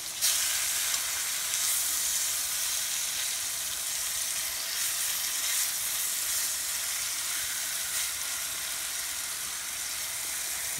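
Beef chuck roast browns in a hot pan on high heat, giving a loud, steady, close sizzle with a hissing, crackling texture that barely changes over the whole stretch.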